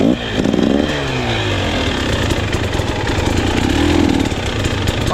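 A KTM 300 XC-W two-stroke enduro motorcycle revs loudly and close on a slick hard-pack trail, its buzzing engine rising and falling through pivot turns without a break.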